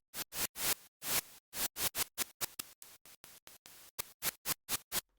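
Synthesizer noise bursts shaped with a record hiss effect: a rapid series of separate broadband hissy pulses, some long and swelling, others short and clipped, alone with no voices.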